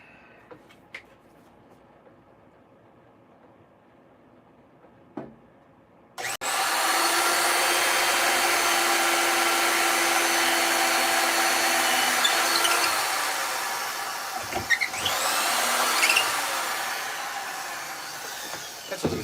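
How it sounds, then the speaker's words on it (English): A power drill whirs steadily into hickory for several seconds, loud and close, drilling holes in a chair in a workshop, its pitch dipping as it bites, after a few quiet knocks. "I'm getting ready to drill those ones that go down in the top"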